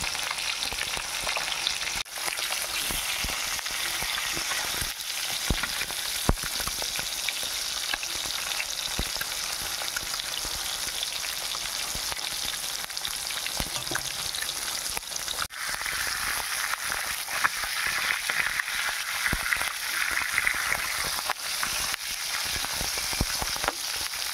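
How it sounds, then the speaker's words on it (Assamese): Fish pieces frying in hot oil in a kadai, a loud, continuous crackling sizzle lasting throughout with faint stirring taps, up close and without any speech. "মাছ কেইপিচ ফ্ৰাই কৰা হ'ল।"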